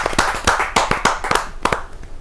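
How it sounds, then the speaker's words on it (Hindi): Hand clapping greets a poet at a Hindi poetry gathering, a quick run of sharp, close claps from a small group that thins out toward the end, with no talking. "जोरदार तालियों के साथ हम स्वागत करते हैं"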